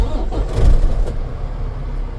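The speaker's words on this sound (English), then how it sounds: "start the engine" A semi truck hitched to an air-suspension trailer has its engine started: a low rumble swells up and then settles into a steady idle, close by.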